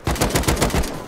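Rapid AK rifle gunfire from the video game Rust, a burst of about six close, loud shots in a steady fast rhythm with no talk over it.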